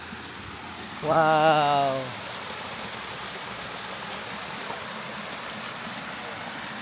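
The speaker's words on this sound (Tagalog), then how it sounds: "may nakita kasi kaming spring. Napakalaking spring." Spring water welling up from underground near Bridalveil Fall in Yosemite, a steady broadband wash of flowing water throughout, with a brief exclamation from a voice early on.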